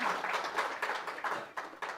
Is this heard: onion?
no